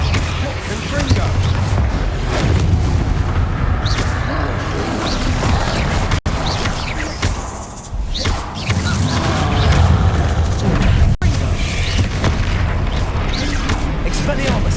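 Spell combat in Hogwarts Legacy with the Confringo fire-blast curse: loud, dense booming and crackling bursts with mechanical clatter, layered continuously with game effects and a voice calling out over the mix.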